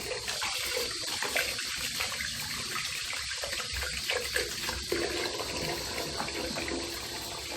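Tap water runs steadily and fairly loudly while soap is used to wash an oily citrus residue off a hairpiece, a continuous splashing gush with no talking.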